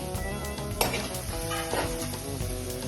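Masoor dal is stirred into a sizzling spice masala in hot oil, giving a steady, close fry hiss with spoon scrapes and clinks against the pan. No voices are heard.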